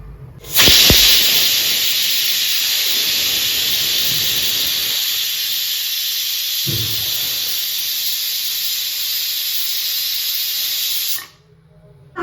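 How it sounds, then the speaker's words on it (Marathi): A loud, sustained steam hiss from a pressure cooker whistle while cooking pongal on low flame, starting abruptly and holding steady for about ten seconds before cutting off. "कुकरचं झाकण लावून घेऊया आणि कमी गॅसवरती तीन शिट्ट्या काढूया"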